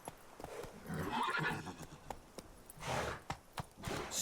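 Roach, Geralt's horse in The Witcher 3 video game, whinnies and snorts in breathy bursts over a sparse, irregular clip-clop of hooves, close and fairly loud with no talking.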